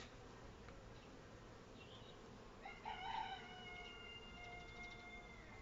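Honeybees swarm in a hive half-super, giving off a steady, faint buzzing drone with a few brief louder flutters and a rooster crowing distantly in the background.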